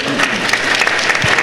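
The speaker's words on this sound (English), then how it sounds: "That's approving applause." An audience at a comics convention panel in San Diego gives brief, approving applause, a dense burst of clapping that stays loud and even throughout.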